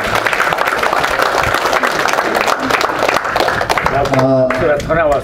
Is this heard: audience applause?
yes